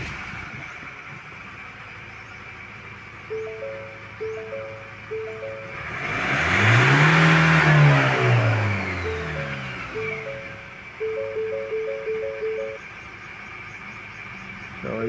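A Ford car engine with erratic RPM and a rough cold idle swells from a low idle into a loud rev in the middle, then settles back, with a repeating tonal beeping before and after.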